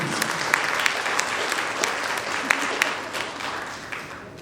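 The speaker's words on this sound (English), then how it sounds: "Round of applause, please." An audience at a high school graduation ceremony in Columbus gives a round of applause, many hands clapping densely with a few sharp standouts, tapering off toward the end.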